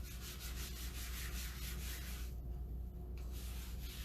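Steady rubbing and scrubbing as a wet crafting surface is wiped clean of excess chalk paste after a Chalk Couture adhesive-backed transfer, a continuous close, even swishing with a brief lull near the end.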